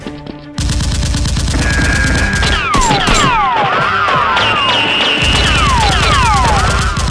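Nerf guns fire continuously in a staged police SWAT fight against a criminal gang, producing loud, dense, rapid shots layered with whistling, swooping effect tones.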